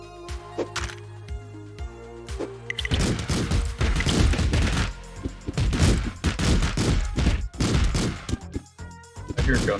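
Video game gunfire: a few sparse shots over background game sounds, then a loud burst of rapid, overlapping shots and booms in quick succession, continuing in clustered volleys.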